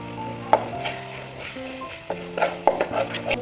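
A spoon scrapes and clanks against a pan in irregular strokes while spices are stirred, with a faint sizzle underneath, close up and without any talking.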